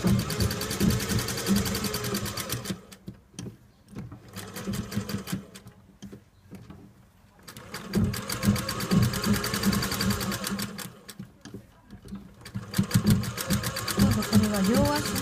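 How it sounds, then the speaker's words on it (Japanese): Industrial sewing machine stitching a reinforcing seam on a suit trouser, rapid whirring bursts of several seconds separated by short pauses, close and loud, with speech-like sound in places. "増しミシンをかけます。"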